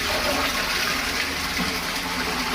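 A newly installed western toilet flushes and its cistern refills, producing a continuous close gushing and hissing of water throughout.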